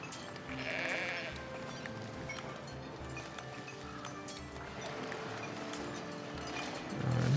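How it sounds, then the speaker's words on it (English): Sheep bleat at a sheep farm in the farming video game Foundation, a single wavering bleat standing out early over a steady bed of game ambience, hoof-like clopping and distant farm sounds. "Sheep farm."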